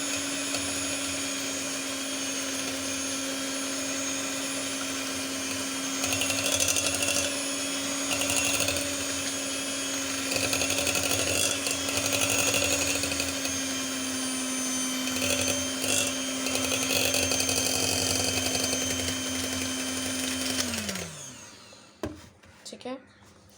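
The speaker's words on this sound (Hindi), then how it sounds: "पहले इसको बीट करूँगी, फिर उसके बाद दूसरे को बीट करूँगी।" An electric beater whirs at a steady pitch while whipping egg into vanilla sponge cake batter, the motor humming continuously with scraping bowl rattles before it winds down and stops near the end.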